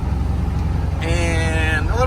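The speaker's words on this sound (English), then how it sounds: "I don't know if you guys can hear that turbo or not, but hopefully." A Ford 7.3 diesel pulls uphill in 4th gear at about 1200 RPM on a rough road, its low engine drone steady while a high turbo whistle rises in partway through, with someone talking over it.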